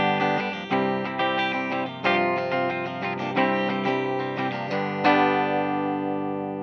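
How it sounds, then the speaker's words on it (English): Edwards mini Les Paul electric guitar played through a Mesa Boogie Mark V:25 amp with the tone at 0, giving sustained, effects-laden chords with a series of strummed attacks. It sounds moderately loud and close, with no talking. "Let's go ahead and plug it into my Mesa Boogie Mark 525 and hear how it sounds."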